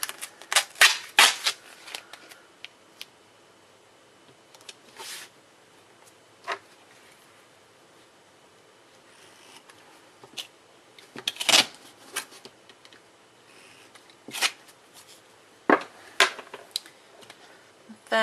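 Scissors snip pieces of duct tape cut to length for a bifold wallet, heard as sharp irregular clicks and crisp cuts in bursts with quiet pauses between, close and fairly soft.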